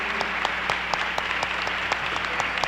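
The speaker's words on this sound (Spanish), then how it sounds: "Así que yo propongo un aplauso" Audience applause at a gathering of Mexican ambassadors in Europe, a steady moderate clapping from a crowd lasting the whole stretch, slightly distant.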